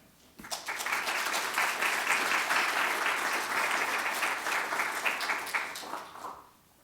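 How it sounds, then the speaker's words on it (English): An audience at a School of Petroleum Engineering talk applauds steadily as the speaker walks up to the stage, a dense, even wash of clapping that starts abruptly and fades out near the end. "We're supposed to keep applauding the whole way he gets up here."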